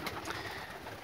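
Pigeons coo softly in a brief, low, murmuring call against faint background noise.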